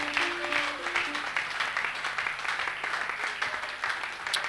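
A church congregation applauding, steady dense clapping throughout with crowd noise and a few voices mixed in.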